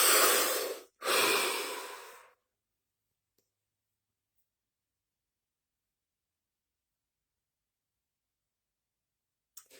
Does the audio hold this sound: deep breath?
yes